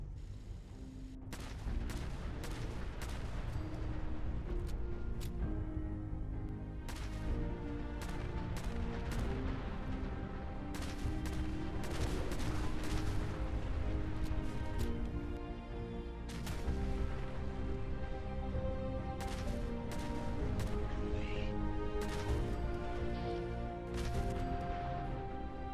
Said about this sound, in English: I then used the Little Man WMX conversion to fire mini nukes, so this is a very expensive weapon to fire